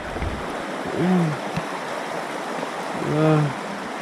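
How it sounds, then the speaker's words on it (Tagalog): Floodwater rushes steadily through a fishpond after a flood, a faint even broadband wash throughout, with two brief voices rising above it. "Sobrang lakas pa oh. Yan oh. Nabutan ng baha dito oh."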